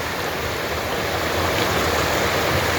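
A creek swollen after rain rushes in a loud, dense, unbroken roar of churning water, close by and with no voices.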